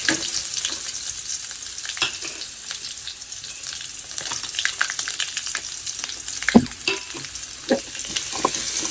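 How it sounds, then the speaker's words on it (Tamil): Onions sauté and sizzle in a pan for chickpea sundal, a continuous soft frying crackle broken by sharper scrapes and taps as they are stirred. "நல்லா வெங்காயம் ப்ரௌனாக வதங்கியிருக்கு"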